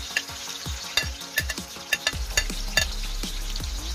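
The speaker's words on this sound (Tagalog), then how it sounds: "Gigisa naman tayo ng ating bawang, kamatis, at saka garlic." Garlic and tomatoes sauté in a hot pan for beef caldereta, with a steady sizzle and scattered clanks of a utensil stirring against the metal, close and without voices.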